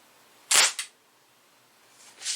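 Daisy Model 74 BB gun firing once, a sharp, fairly quiet crack with a brief second snap right after, then quiet, and a faint click near the end.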